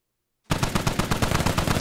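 Assault rifle gunfire in the Squad video game: after a short silence, a rapid automatic burst of about a dozen close, loud shots in quick steady rhythm.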